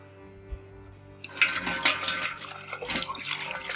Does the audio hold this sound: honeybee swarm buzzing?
no